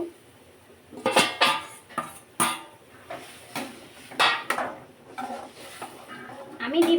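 Eggs go into a pan of spicy egg curry, with a series of close clattering knocks and scrapes of utensils against the pan coming in irregular bursts, and no talking.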